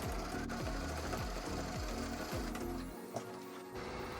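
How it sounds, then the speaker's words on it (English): A sewing machine runs steadily, stitching along either side of a seam on a tote bag made from a thrift store tee, its rapid mechanical whir close and continuous before stopping near the end. "I did go ahead and sew to the left and right side of the seam just to hold the seam in place"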